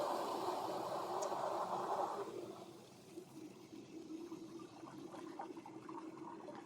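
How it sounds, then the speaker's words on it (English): Water rushes through an opened valve to back purge a syrup-mixing line, a steady hissing flow that eases after about two seconds into a quieter continuous trickle. "start opening up this valve. That way it's actually going to back purge and it's going to push a little bit of water in here"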